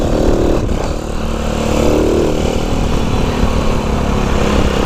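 A Honda Cub C90 with a 140cc engine is ridden on a first outing, its small engine droning loud and steady throughout with wind rush, recorded close on the bike and with no talk.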